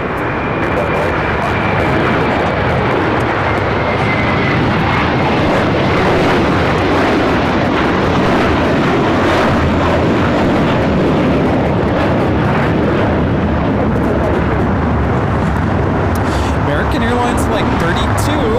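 Skywest airliner taking off from runway 25 right at Los Angeles International Airport, a loud, steady broadband jet roar holding for the whole stretch, with talk over it.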